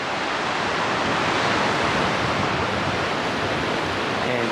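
Middle Fork of the Feather River rushing nearby, a steady, loud broadband roar of flowing water that holds unbroken throughout.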